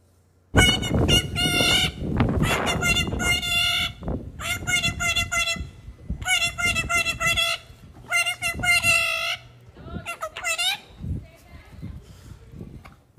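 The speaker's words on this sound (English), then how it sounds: "So the parrot starts to say, pretty, pretty, pretty." A pet parrot calls and talks in a loud run of harsh, harmonic squawks and word-like phrases, repeated in bursts with short pauses and heard close up.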